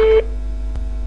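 Right after a phone call is hung up, a telephone line gives a single short electronic beep, then a steady low hum continues alone.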